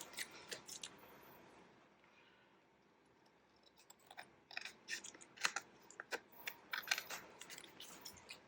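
Scissors snip through pieces of paper in quiet, irregular bursts of crisp clicks and crunches, faint at first and then more frequent and closer.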